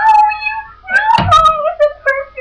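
A house cat meows a few times close by, with drawn-out, wavering cries and a soft knock in the middle, loud and alone.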